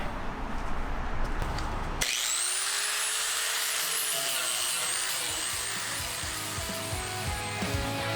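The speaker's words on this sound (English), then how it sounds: "around these seams because the grinder keeps catching" An angle grinder works along the seams of a Mitsubishi Evo 8/9 fuel tank, a loud continuous abrasive whine with scraping, steady from about two seconds on after a quieter start.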